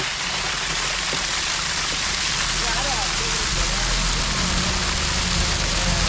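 Water gushes up out of a tube well in a continuous loud rushing, splashing roar that stays dense and steady throughout, with a voice talking faintly under it.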